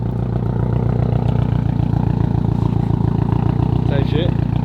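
Built Subaru WRX STI engine running rough at idle on a base map, a loud, steady low-pitched burble with a pulsing beat, close-up and mostly alone until a short burst of voice near the end.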